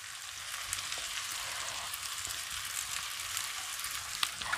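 Roasted peanuts tossed into a pan of frying bitter gourd bhujia, a steady, close oily sizzle with faint stirring scrapes and crackles throughout, no voices.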